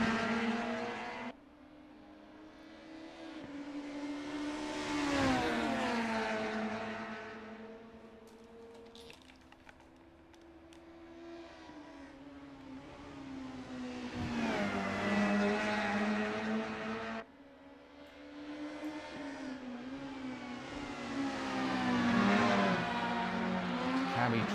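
Super Touring race cars in the Assetto Corsa racing game, including a Renault, lap the Nürburgring GT circuit, with engines rising and falling in pitch as they accelerate, shift and pass close by.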